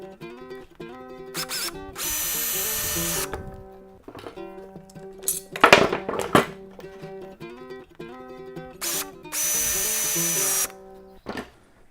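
Power drill driving screws into the T-beam top of a wooden saw horse, several short bursts of whirring drill with rising and falling pitch, two longer sustained runs and a sharp knock between them, close and loud.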